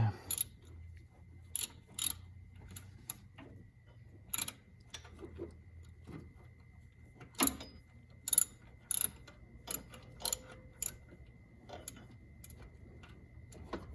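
An alternator bolt on a 2006-2011 Honda Civic is tightened, giving sparse, close, sharp metallic ratchet clicks and clinks spaced irregularly over a quiet background, with no talking.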